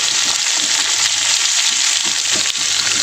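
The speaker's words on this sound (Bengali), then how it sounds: "তো চলো আগে পটলগুলো ভেজে নিই।" Pointed gourd (potol) frying in a pan makes a loud, close, steady sizzle and hiss, with faint spatters and one brief clack. No voices.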